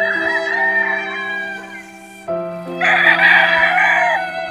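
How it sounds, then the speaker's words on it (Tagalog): Chickens and a rooster in floodwater: two overlapping crows, loud and near, over a steady low hum. "Kawawa yung mga manok."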